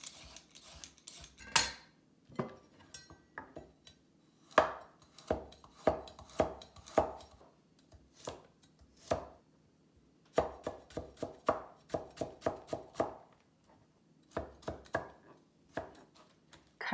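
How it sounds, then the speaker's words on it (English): A peeled carrot being julienned with a knife on a cutting board, heard up close as irregular runs of quick, crisp taps separated by short pauses, with no voices. "Peel the carrot and julienne after."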